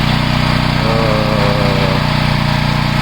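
A Tensite 8 kW inverter generator engine runs steadily at half load, a loud, even mechanical hum with a constant rhythmic pulse and no voices.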